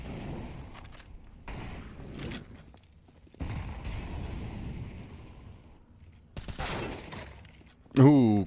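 Gunfire in Counter-Strike 2 on a competitive match map, several sharp bursts separated by quieter stretches and ending in a loud close shot, with a caster's voice talking over the game.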